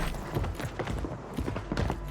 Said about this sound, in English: a lot of footsteps here that we are hearing